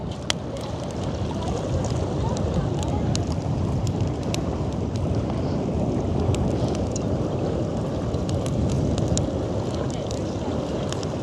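Wind blows steadily and loudly across an open space, a dense constant roar with occasional sharp clicks and no speech.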